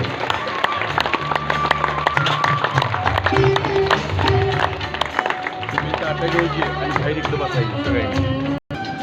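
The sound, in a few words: audience clapping loudly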